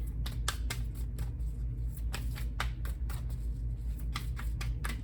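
Cards being shuffled up close: crisp, rapid bursts of riffling and flicking in quick succession over a low background hum.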